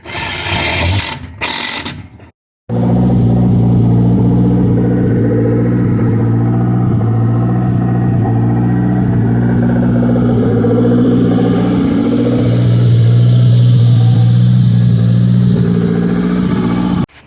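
A Honda CRX with a swapped engine idles steadily and loudly with a rough mechanical rumble, rising slightly in intensity partway through, after a brief burst of clatter at the start.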